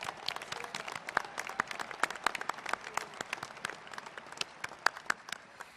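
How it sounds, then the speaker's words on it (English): Scattered applause from a crowd at a US Air Force Academy commencement, a steady patter of many hands clapping at moderate distance, with no voices. "let's give applause for Rebecca."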